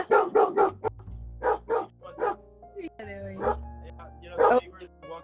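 A pet dog barks in a series of sharp, close woofs in a home, with short bursts early and again later, alongside steady low humming.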